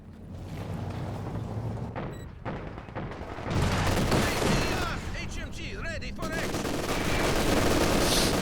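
Machine gun fire in the WWII strategy game Company of Heroes 2: sustained rattling bursts and scattered gunshots amid a busy battlefield roar, under a commentator's voice and in-game unit chatter.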